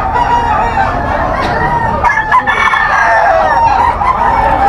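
An SBR Gilmore gamefowl rooster with a straight comb crows loudly and close at a busy pet market in Bocaue, its drawn-out call rising over crowd murmur and other fowl clucking nearby.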